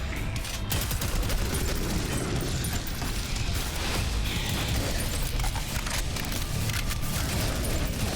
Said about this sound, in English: I'll get our nail gun.